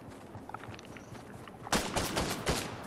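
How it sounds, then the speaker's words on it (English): A burst of automatic gunshots nearby in Fortnite, faint at first and then louder, rapid shots starting partway through, with no talk. "I hear shooting next to me."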